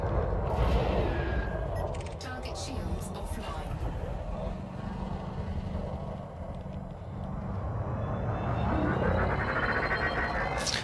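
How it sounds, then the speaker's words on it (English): A PvP robot battle video game erupts in heavy gunfire, with dense bursts of weapon fire and explosions layered continuously under a commentator talking. "the fast Spectre is as well under heavy fire"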